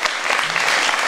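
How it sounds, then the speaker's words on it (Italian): Applause from a studio audience at an Italian television broadcast honoring the musicians, dense steady clapping filling the whole short moment at close, even loudness. "applauso"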